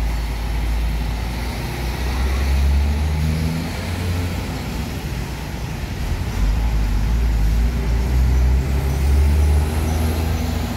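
A Padang bus pulls away and accelerates, its deep engine rumble steady and loud over road noise, with a few swells in the low drone as it gathers speed.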